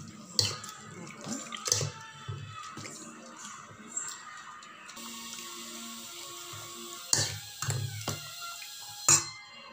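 Water swishing and sloshing in a bowl as homemade butter is stirred and washed, with intermittent splashes and light clinks, close and fairly quiet.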